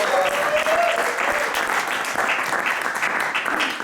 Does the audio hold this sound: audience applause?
yes